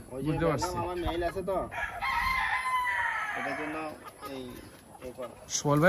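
Bantam chickens on a farm crow in repeated calls, one long crow standing out among shorter clucks and bursts of crowing, fairly close, with people talking in between.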